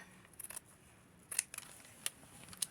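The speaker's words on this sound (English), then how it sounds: "I'm going to cut it rather quickly here and then do the little sides here" Scissors snip through felt fabric for a Patrick Star craft, producing a series of sharp, close, crisp cuts: a quick cluster early on, then several spaced single snips against a quiet background.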